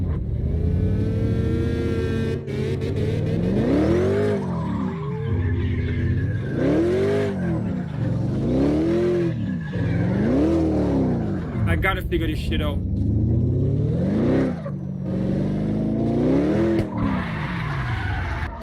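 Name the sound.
rear-wheel drive car drifting in video game CarX Drift Racing Online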